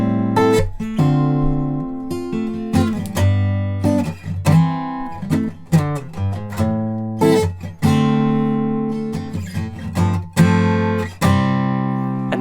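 A guitar riff is played over and over on a clean electric guitar, with strummed chords and single-note runs in a steady, close, loud repeating pattern.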